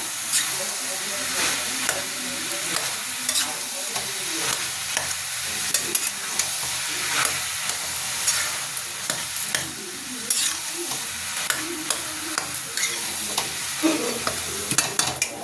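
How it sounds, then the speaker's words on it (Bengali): Shredded cabbage with chillies frying in oil in a pan is stirred with a spatula, a steady close sizzle and hiss broken by repeated scraping strokes that keep going throughout. "এবার বাঁধাকপিটা নাড়বো।"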